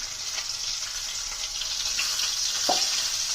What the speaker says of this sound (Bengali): আমরা পুর তৈরি করার জন্য কড়াইয়ে তেল দিয়ে দেবো।